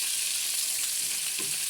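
Urad dal and lentils roast on low heat in a pan, giving a soft, steady sizzle with faint scraping where they are stirred, quiet and without speech.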